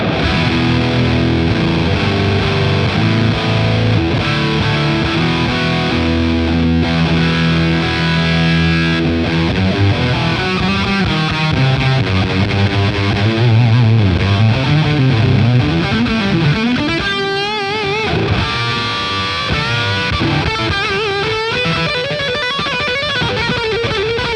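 Loud electric guitar through a heavily saturated Greer Amps Gorilla Warfare MK2 distortion pedal with gain maxed, sustained chords giving way to bending, wailing lead notes, playing continuously with no talking.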